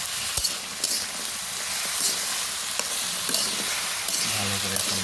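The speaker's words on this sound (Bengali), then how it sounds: "ভালো করে এখন নাড়াচাড়া করতে হবে সবজিগুলো" Mixed vegetables with green chilies and salt being stirred in a hot pan, a constant sizzle broken by repeated scraping and tapping strokes of a spatula, close and fairly loud, no talking.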